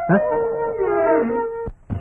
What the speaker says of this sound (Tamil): ஏன் இப்படி தெரு நாய்களோட விளையாடுற?